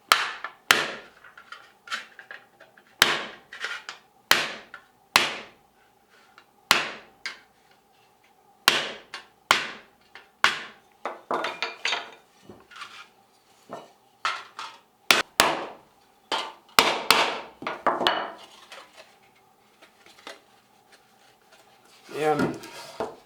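A hammer strikes a chasing tool on solid copper sheet during repoussé work on a pumpkin panel, giving sharp metallic taps in irregular clusters with pauses between them.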